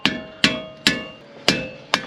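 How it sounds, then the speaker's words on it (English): Five sharp metallic hammer taps on a Jeep Rubicon axle part, evenly spaced and close, each ringing briefly. "Now that I have a tiny gap here for my tapping"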